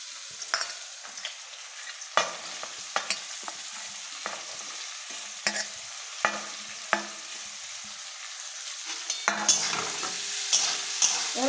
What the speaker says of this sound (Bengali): উচ্ছা ভেজে নিচ্ছি